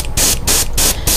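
Spray paint hisses onto a fishing lure through window mesh in four short, steady bursts with brief gaps between them, close and fairly loud.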